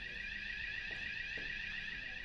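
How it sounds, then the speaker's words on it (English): A fire alarm sounds as a continuous, steady electronic siren tone, unbroken and at even loudness throughout, with no voices. "The fire alarm is a continuous siren."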